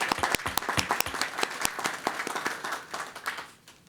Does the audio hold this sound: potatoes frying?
no